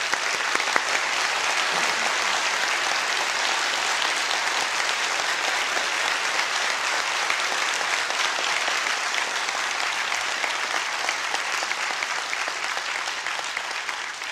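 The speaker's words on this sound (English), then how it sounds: "We can applaud Mr. Ham's presentation" A large debate audience applauds Ken Ham's presentation with steady, dense clapping that holds evenly for about fourteen seconds and fades slightly at the end.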